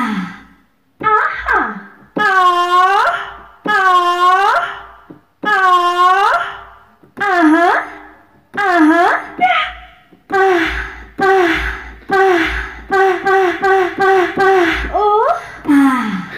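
Choir "ah" voice sample from a Korg PA keyboard (PA300/PA600 series) plays a sequence of sustained and short vocal-like notes, with swelling and pitch-bending tones, loud and clear, with no talking.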